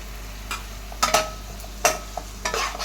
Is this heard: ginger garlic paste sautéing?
yes